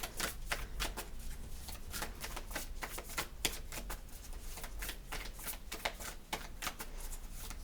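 Oracle cards riffled and shuffled by hand for a card reading, a steady run of quick, crisp papery flutters and snaps lasting several seconds, fairly close, with no talking.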